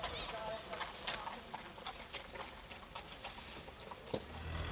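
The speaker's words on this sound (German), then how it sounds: "Die Ernte wird noch mit Pferdefuhrwerken eingefahren." Horse hooves clop in a steady walking rhythm as a horse-drawn harvest cart rolls along in a Romanian village, with a voice talking over the sound.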